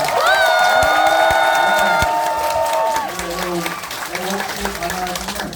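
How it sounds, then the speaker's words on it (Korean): Crowd at a political talk concert in an auditorium at Bupyeong-gu Office, Incheon, applauding and cheering loudly, with whoops and tonal voices or music over the din before it thins into lighter clapping. "여러분 힘찬 박수로 청해드리도록 하겠습니다"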